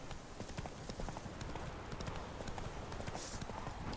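Roach, the horse in The Witcher 3, galloping hard, with a fast steady drumming of hoofbeats that stays close and loud throughout.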